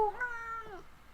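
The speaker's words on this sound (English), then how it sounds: "we got the wheezy meows, the wheezy purrs" A cat gives a single wheezy, drawn-out meow, close and fairly clear, lasting about a second with no talking over it.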